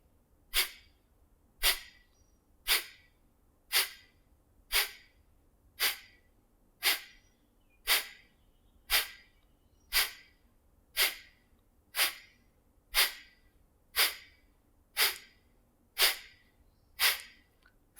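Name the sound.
Kapalbhati breathing, rapid forceful exhalations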